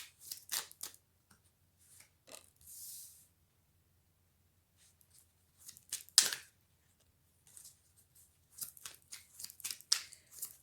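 Tarot cards shuffled and laid out by hand make faint, close, papery riffles and soft slides in short, scattered bursts separated by near silence.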